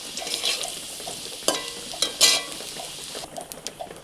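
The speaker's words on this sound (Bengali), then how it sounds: "আলুটা ভেজে তুলে নেওয়া হয়েছে" Potato pieces frying in hot oil until reddened are stirred in a pan, with a continuous sizzle broken by several sharp scrapes and clinks of the spatula against the metal.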